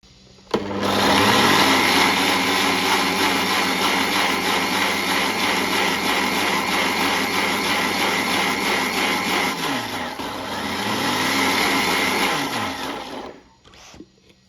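A blender whirs steadily for about thirteen seconds, loud and close, as it blends a thick fig smoothie with milk and honey, then cuts off near the end.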